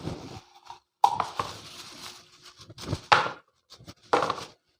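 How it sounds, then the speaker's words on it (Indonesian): Peeled coconut being cut into pieces on a board for making virgin coconut oil, heard as a few sharp, separate chopping knocks with short gaps between, close by and moderately loud. "Ini kelapa akan saya potong-potong."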